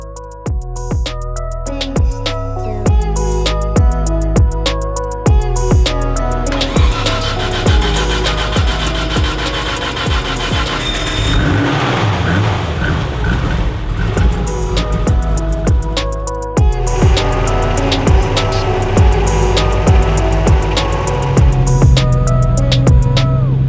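A freshly built HKS Vcam R32 GTR engine cranks over with its spark plugs removed, the starter whirring in long repeated bursts with rhythmic ticking pulses, loud and close, with short pauses between cranks.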